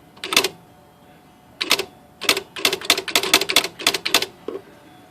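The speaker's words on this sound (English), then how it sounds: "So it's a very basic typewriter." Smith Corona electronic daisy wheel typewriter striking keys: sharp, crisp mechanical clacks alone, a single hit, a pause, then a rapid irregular burst of strikes and a final softer tap.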